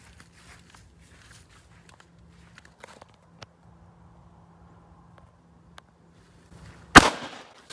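A single gunshot fired at a target rings out near the end, one sharp, loud crack after several seconds of near-quiet with faint scattered rustles and footsteps.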